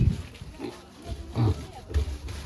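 Short, low grunts and snorts from piglets come in several bursts, fairly close, with faint background noise between them.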